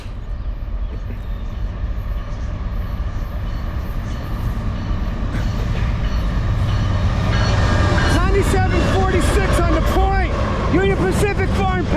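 A westbound Norfolk Southern freight train led by Union Pacific and Dash 9-44 locomotives rumbles past through Edison, a loud continuous roar of wheels and engines with squealing, clanking rail cars building toward the end.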